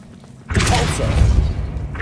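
The Repulso spell cast in Hogwarts Legacy: after a quiet start, a sudden loud whooshing burst that swells into a rumbling, thumping blast and lasts to the end.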